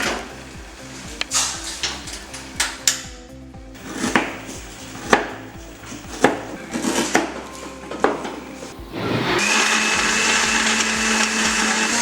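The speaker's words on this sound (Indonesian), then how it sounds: "kita blender" An electric blender whirs steadily through a drink of lemongrass and pandan leaves boiled with cloves, cardamom and cinnamon, starting after a stretch of kitchen knocks and clatter and running loud and continuous to the end.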